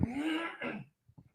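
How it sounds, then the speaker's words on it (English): A man clears his throat with a rough, voiced rasp, followed by a shorter second clearing and a few faint breaths, close and alone. "I have to clear my throat."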